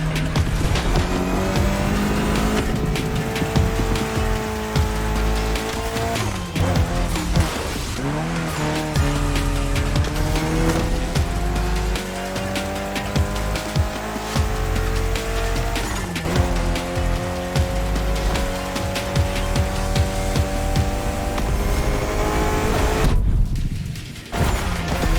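Race cars roar and rev in The Crew Motorfest video game, engines shifting pitch continuously while tires squeal and skid through corners, loud and sustained with background music, ending in a brief drop-off.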